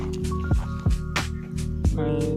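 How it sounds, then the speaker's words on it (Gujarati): Water escapes from a broken drip irrigation pipe on a farm, making close, repeated squishy drips and gurgles over a steady background hum, with wind in the open air. "દીપ તૂટલી હોય ને એટલે પાણી નીકળે"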